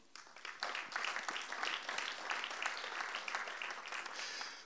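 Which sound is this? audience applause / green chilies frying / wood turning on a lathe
audience applause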